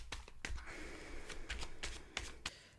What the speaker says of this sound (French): on va donc faire un tirage en 11 cartes